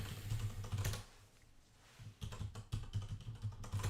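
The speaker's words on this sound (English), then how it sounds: "Can you hear my typing?" Steady tapping on a computer keyboard, close and fairly quiet, with a brief lull in the middle before the clicking picks up again over a low hum.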